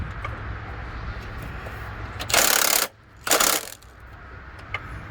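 A ratchet working a rusty front suspension bolt on a C4 Corvette, two short bursts of loud metallic clicking separated by a pause, against a quiet workshop background.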